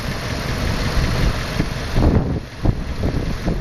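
An engine running on homemade on-demand hydrogen idles steadily, a loud, low rumble mixed with wind buffeting the microphone.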